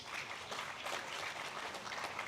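Audience applause at an inaugural ceremony for an academic conference, a steady, fairly soft patter of many hands clapping continuously without a break.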